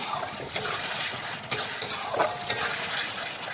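Potatoes and spices stirred in a cooking pot for a Bengali fish curry, with a close, continuous scraping and soft sizzle and a few sharper knocks of the spoon against the pot, no talking.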